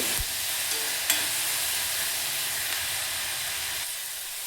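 Chopped onions frying with turmeric in a pan as they are stirred, a steady soft sizzling hiss with a couple of faint utensil clicks, close and fairly quiet.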